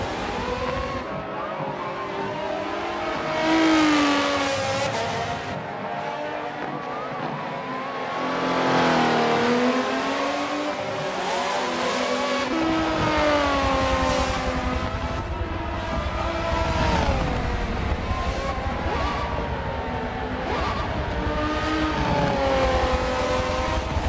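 F1 race cars in the video game Forza lapping the Nurburgring, with high-pitched engines continuously screaming and shifting through rising and falling revs, several cars overlapping close by and loud, with no talk.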